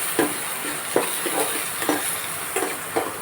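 Chopped onions hit a pan of browning garlic, sending up a steady sizzle punctuated by regular scraping stirs roughly once a second, close and clear with no talking.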